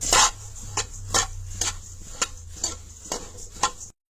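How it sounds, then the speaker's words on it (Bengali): Puffed rice being dry-roasted in a pan until reddish for jaggery laddoos, with repeated scraping and stirring strokes roughly every half second, close and fairly loud with no talk. "একটু লাল করে বাজিয়ে দিচ্ছি মুড়িটা"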